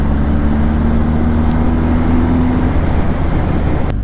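A 2020 BMW R1250GS motorcycle's boxer engine drones steadily while riding, a loud constant low rumble mixed with rushing wind, with no voices over it.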